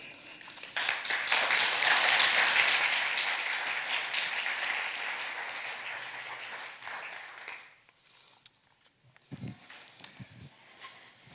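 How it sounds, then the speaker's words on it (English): Conference audience applauding a speaker at an animation conference, a dense broadband wash of clapping that swells in the first seconds, holds, then thins and fades out around the eight-second mark, leaving a few faint scattered sounds. "applause for Johannes Mücke"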